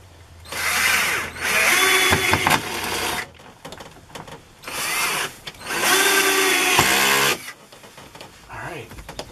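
Power screwdriver with its clutch slipping while fitting 12v outlets in an Aliner camper, loud close bursts of buzzing, ratcheting whir in two long pairs separated by brief pauses.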